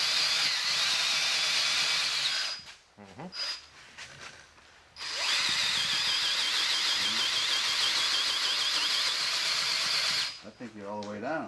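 A drill bores a 5/8-inch hole about an inch and a half deep into an engine block for a 512 stroker build, two loud sustained runs of steady high whine with a brief pause between them, followed by voices talking.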